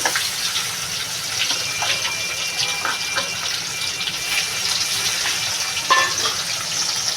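Pieces of rohu fish frying in hot oil for a jute-leaf curry, a loud continuous rushing sizzle with scattered crackles and one brief louder spatter near the end.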